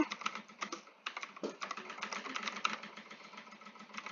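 A password is typed on a computer keyboard, rapid continuous key clicks in an uneven rhythm, fairly close and faint, over a low steady hum, with no talk.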